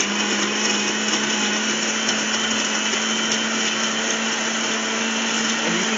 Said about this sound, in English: Hear it chopping up that ice